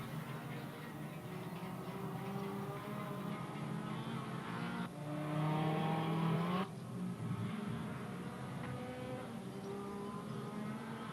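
Formula Ford race cars lapping Raceroom Raceway GP in the RaceRoom racing game, engines droning steadily and loudly throughout, with one car's note rising and swelling for a couple of seconds as it passes close by.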